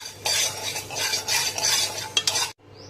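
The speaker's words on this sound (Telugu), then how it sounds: "రెండు స్పూన్ల ఆవాలు వేయించుకుందాం" Mustard seeds and fenugreek dry-roasting in a pan for tomato pickle, stirred continuously so the seeds rattle and hiss in a steady close scraping wash that stops abruptly near the end, with no voices.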